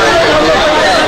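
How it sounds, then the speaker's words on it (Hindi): A heavy crowd packs the inside and outside of a PMC Bank branch in Mumbai, with loud, dense chatter and babble of many voices filling the air continuously and close by. "मुंबई में पीएमसी बैंक की ब्रांचों के अंदर और बाहर भारी भीड़ जमा हो गई"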